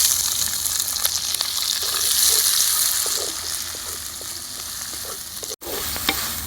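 Onion and green chilies sizzle steadily in hot oil with dried shrimp, a dense, continuous frying hiss with light stirring clinks, close and loud throughout.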